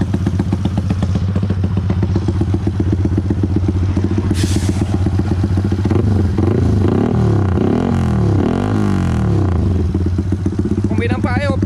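A motorcycle fitted with a 68mm piston runs steadily nearby as it is ridden, a continuous engine drone with clattering and scraping mechanical noise throughout.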